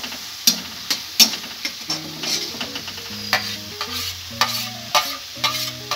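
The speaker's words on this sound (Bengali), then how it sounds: "এগুলো একটু ভালো করে ভেজে নেব" Garlic paste frying in a pan while a mixed winter vegetable curry is being cooked, heard as a steady sizzle with repeated clinks and scrapes of a spoon stirring against the pan.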